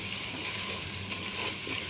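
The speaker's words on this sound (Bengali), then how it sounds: "মশলাটা মিশিয়ে নিচ্ছি" Ground turmeric, Kashmiri chilli and coriander frying in oil in a pan for chicken pulao, being stirred, with a soft continuous sizzle and light scraping, fairly quiet and close, no talking.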